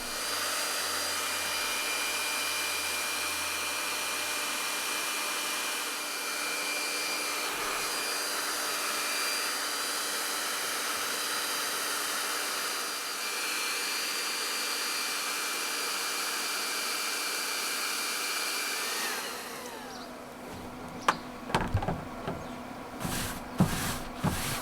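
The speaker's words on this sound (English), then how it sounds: "now I'm just going to hit that with the hair dryer and melt that all in now." Steady, loud hair dryer blowing for about twenty seconds to melt wax into Fjällräven Vidda Pro G-1000 pants, then cutting off, followed by a few quiet clicks and handling knocks.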